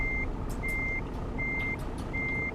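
Evenly spaced electronic reversing beeps from a truck in the Euro Truck Simulator 2 game, four steady tones over a constant low engine rumble, with no talk.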